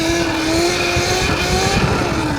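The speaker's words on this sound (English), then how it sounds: "A rolling burnout with no front brake, just all torque." An RC truck does a rolling burnout with no front brake, all torque. A steady high motor whine with rising tonal lines holds under a dense roar of tire scrabble, loud and close throughout.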